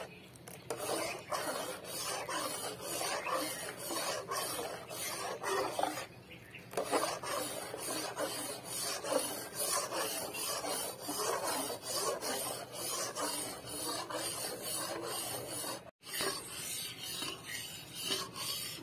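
A spoon stirs a milk powder burfi mixture in a pan, making a continuous, fairly faint scraping and rubbing with a rough, steady rhythm that barely pauses.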